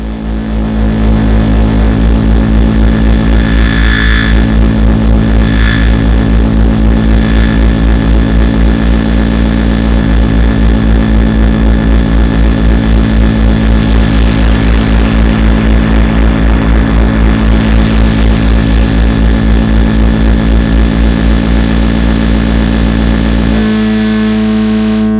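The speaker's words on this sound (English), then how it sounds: "and noise sources together, we get a rich sound with very big low end and harsh but somehow mild and pleasing high end thanks to the tube circuit" An Erica Synths Fusion Tube Mixer blends noise sources through its tube circuit into a dense, constant roar with a heavy booming low end and a harsh yet mellow top, loud and unbroken before a sudden change near the end.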